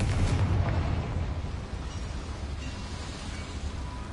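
A Confringo fire spell bursts in Hogwarts Legacy with a loud, booming blast that rumbles heavily at the start, then settles into a sustained low roar and crackle.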